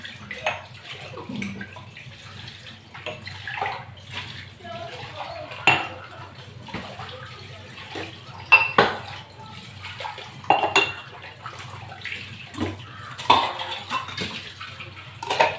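Dishes are washed by hand with liquid soap and water: intermittent clinks of pots, plates and cutlery against each other alongside splashing and running water, close and irregular, with occasional faint voice in the background.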